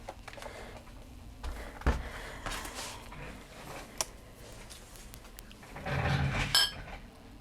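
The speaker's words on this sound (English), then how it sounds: "Get that die back in my dish so I don't lose it." A metal cutting die dropped back into a small dish, giving a short clink of metal against the dish among faint handling noises at a craft table.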